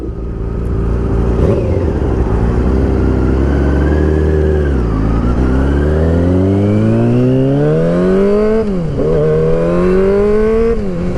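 Yamaha R6 sport motorcycle being ridden, its engine loud and close, revving up through rising pitch sweeps with a couple of dips between gear changes, continuous throughout.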